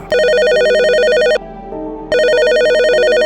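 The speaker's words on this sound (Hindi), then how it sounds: "रात के ठीक 12 बजे रिसेप्शन का फोन बज उठा।" A telephone rings loudly with a warbling electronic tone, two long bursts separated by a short pause.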